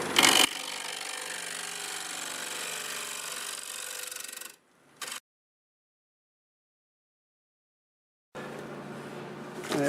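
Black locust burl bowl spinning on a wood lathe at 1400 RPM as its face is flattened: a loud, steady broadband rush of tool cutting wood, then a break into silence before cutting resumes near the end.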